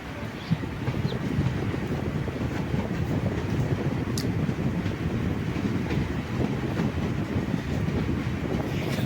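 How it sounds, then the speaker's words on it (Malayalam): An old MEMU commuter train rolls steadily along the rails after departing Karunagappally in Kerala, a continuous loud rumble with faint rhythmic wheel clicks, heard from inside the carriage. "വലിയ താമസമില്ലാതെ തന്നെ കരുനാഗപ്പള്ളിയിൽ നിന്നും ട്രെയിൻ എടുത്തിട്ടുണ്ട്."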